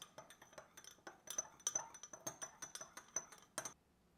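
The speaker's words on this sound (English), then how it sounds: "Give that a quick mix." Sauce with soy sauce mixed quickly in a bowl for agedashi tofu: rapid, bright clinks of a utensil against the bowl in a steady stirring rhythm, ending with a sharper tap, close and clear with no talking.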